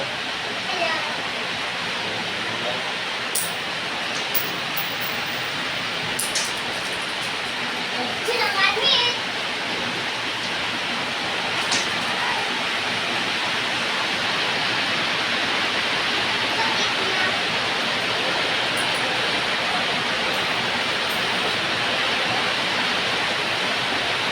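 A constant heavy hiss of pouring rain fills the scene, with faint voices briefly audible beneath it.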